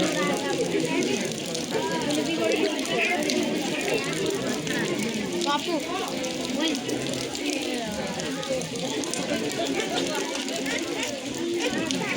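Rain falls steadily across Lal Bagh botanical garden in Bengaluru, a dense, continuous hiss that fills the scene while people chatter and move about nearby.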